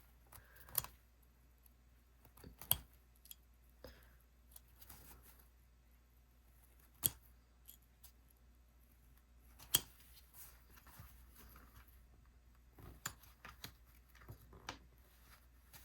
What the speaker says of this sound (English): I'm just going to unpick the zipper tape here